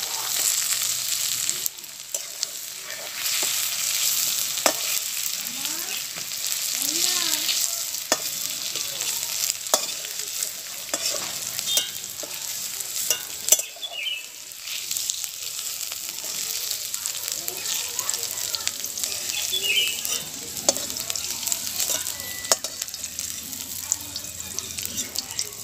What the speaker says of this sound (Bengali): কুঁদরি এবং আলুটা আমার ভাজা হয়ে গেছে।